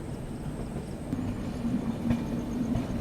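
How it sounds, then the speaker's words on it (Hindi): A train pulling out of Saharsa Junction railway station at night, a steady rumbling rail roar with faint clatter and a low hum, continuous and fairly close, no voices. "यहाँ से किसी ट्रेन का डिपार्चर हुआ है"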